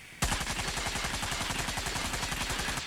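Light machine gun fired from the hip in a video game, one continuous rapid-fire burst of sharp, evenly spaced shots lasting nearly three seconds.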